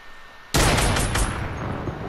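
A single sharp gunshot in a video game bursts in abruptly and loud, followed by a long rumbling echo and tail.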